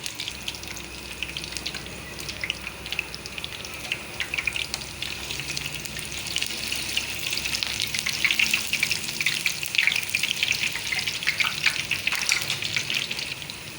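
A Turkish sandwich sizzles and crackles steadily in a frying pan, a continuous close hiss of hot oil that grows slightly louder and denser toward the end, with no talking.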